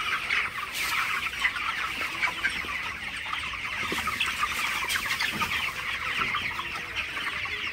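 Chickens cluck in a poultry farm shed at night, a dense, continuous flock chatter with steady brooding murmurs and occasional sharper calls, fairly even and close with no talking.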